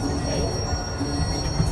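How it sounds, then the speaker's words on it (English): A steam train on a Polar Express Christmas ride rumbles steadily as it slows, with a faint high wheel squeal riding over the close, continuous rolling noise. "Let's hear the steam train stopping and go."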